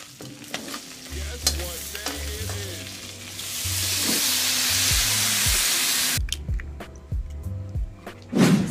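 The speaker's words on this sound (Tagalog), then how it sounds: "Patola na mimiswa." Sponge gourd (patola) sautéing in a pan, a steady hissing sizzle that swells as it is stirred, with clinks and scrapes of a utensil nearby and a burst of louder frying at the end.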